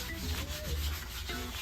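Leftover gasket material is sanded off an engine block, a close, continuous abrasive rubbing with short back-and-forth strokes.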